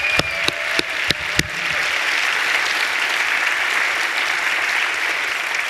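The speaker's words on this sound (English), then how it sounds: "can we get a big round of applause for all the organizers and everyone involved in setting it up?" A conference audience applauds the event organizers, opening with several loud, distinct nearby claps before swelling into a sustained, even roar of many hands clapping.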